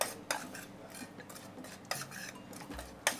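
Flour for Moroccan whitebait being mixed in a bowl, with soft scraping and a few sharp utensil clinks against the bowl, quiet and close, no voices.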